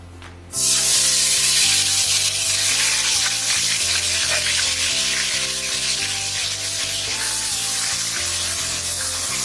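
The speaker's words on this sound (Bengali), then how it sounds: "এবার আমরা এর মধ্যে দিচ্ছি আগে থেকে যে পেঁয়াজ আর কাঁচা লঙ্কার পেস্টটা চিকেন মশলা দিয়ে বানিয়েছিলাম সেই পেস্ট" A paste of onion, green chili and chicken masala hits a hot pan and erupts into a loud, steady frying sizzle that holds for several seconds, with a faint rhythmic scraping underneath.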